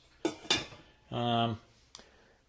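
A metal lid set down onto a pot of simmering pork nilaga soup, a couple of sharp clanks and a short rattling ring followed by one more light knock, close and fairly quiet.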